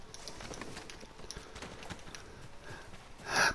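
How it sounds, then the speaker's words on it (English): Horse hooves clip-clopping in the video game Ghost of Tsushima, a quick run of hoofbeats under ambient game sound, with a brighter burst near the end. "Stupid horse."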